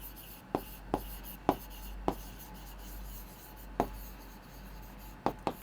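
Handwriting with a pen, a handful of short, crisp scratchy strokes spaced irregularly across a quiet background.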